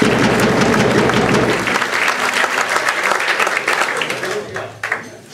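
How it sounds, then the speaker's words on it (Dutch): Loud audience applause at a Dutch carnival pronkzitting show, dense clapping that thins out partway through while some scattered claps and crowd noise carry on. "Geef ze een hartelijk applaus aan de filoloog uit Frankrijk."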